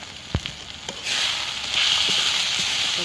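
Spice masala with salt, turmeric, red chilli, coriander and cumin powders fries in oil for bhetki fish biryani. A few stirring knocks come first, then a steady, close sizzle swells and continues.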